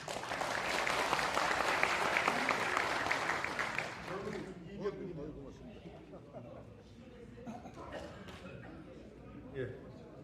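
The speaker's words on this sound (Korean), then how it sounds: "힘차게 환영의 박수를 다시 한번 부탁을 드리겠습니다." A crowd at a Vietnam War veterans' rally gives welcoming applause, loud and full for about four seconds before dying away, after which someone speaks over a murmuring hall with scattered claps.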